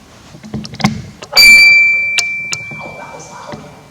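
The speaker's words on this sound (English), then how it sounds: "Can you turn that torch on if I can ring the bell?" A Masonic ceremony bell in a mansion chapter room is struck once, a loud, bright ring that sustains with a clear tone and slowly decays, with a few soft knocks and movement sounds around it.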